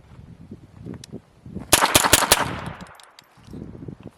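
A Tippmann M422 Micro Elite pistol fires one rapid, close, loud burst of about five shots. Quieter handling noise comes before and after the burst.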